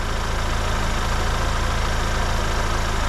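A Ford Bronco Sport engine idles, a loud, steady, even mechanical drone with a fast rhythmic pulse heard close up and alone.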